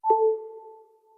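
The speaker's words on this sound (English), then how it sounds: "So Connect Power sounds like this." iPhone iOS 11 Connect Power wireless charging chime: a single soft electronic ping with two sustained tones that ring out and fade slowly in a drawn-out echo, alone in silence.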